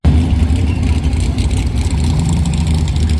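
A drag race car on an ice track rumbles loudly and steadily as it pulls up to its lane, deep engine idling with slight revving fluctuations and no talk over it.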